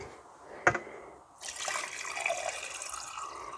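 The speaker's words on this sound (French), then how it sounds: "Je vais mettre de l'eau dedans." Water pours into a jam jar, a quiet trickle building into a steady liquid fill after a brief clink, close and alone.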